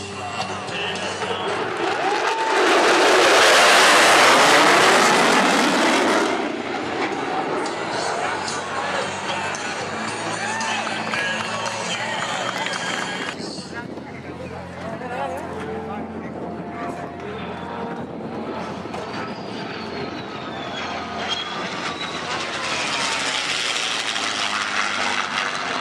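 An aircraft makes the dedication flyby at the Key West airshow, a loud roaring pass that swells, peaks early and then fades into a lingering rumble, with a second engine surge near the end.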